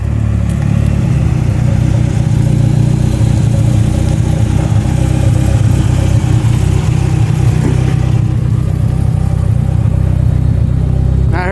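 A turbocharged car engine drones and revs continuously at close range, a steady loud rumble with slight swells, no voices.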